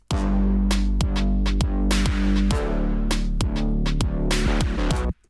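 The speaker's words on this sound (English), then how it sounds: "I just enhance with a brass stab." Deep synth bass line pulsing in a driving rhythm, punctuated by sharp bright brass stabs hitting repeatedly on the beat, loud and without vocals.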